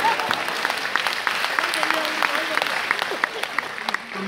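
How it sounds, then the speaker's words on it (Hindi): Audience applause at a Hindi comedy show, steady clapping spread through the whole stretch with a sustained crowd wash beneath it. "तो यार आपको अच्छी तालियां बजानी चाहिए"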